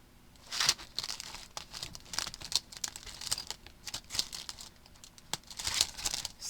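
Thin paper doilies are pulled from a container, crinkling and rustling in a run of close, brittle crackles and small tearing-like rasps that come in irregular bursts with no talking.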